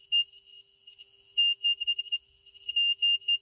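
A buzzer module on an LCD circuit board beeps in short, sharp, high-pitched bursts, some single and some in quick clusters, close and clear with no talking.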